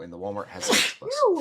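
A single sharp sneeze bursts out mid-sentence, loud and close, while a person talks about trading card boxes before and after it.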